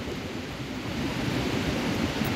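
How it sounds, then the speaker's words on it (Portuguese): Rough, turbulent surf at Gravatá beach in Navegantes, Santa Catarina, on a cold day makes a continuous low roar that swells slightly, with no voices. "o marzão hoje tá um pouco alto e um pouco turbulento"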